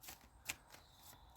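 Tarot cards shuffled by hand ahead of a three-card reading, giving soft papery riffles and taps in a few brief bursts, close and quiet with no talk.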